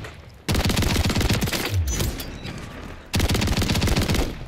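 Holger machine gun in Call of Duty: Modern Warfare fires two long sustained bursts of rapid automatic gunfire, loud and close, separated by a brief pause.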